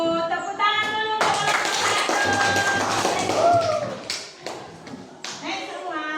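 Students in a classroom applaud a group coming up to present, a loud burst of scattered hand claps and taps lasting several seconds, with a teacher talking over and around it.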